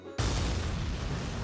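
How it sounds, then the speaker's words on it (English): An explosion goes off on board a ship in the Valkyria Chronicles 4 video game, a sudden loud broadband blast that holds as a sustained roaring rumble. "An explosion has occurred on board."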